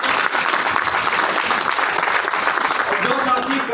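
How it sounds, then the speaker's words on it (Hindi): A crowd at a sales meeting applauds loudly and continuously, with voices mixed into the dense clapping. "एक बार जोरदार तालियां हो जाती हैं।"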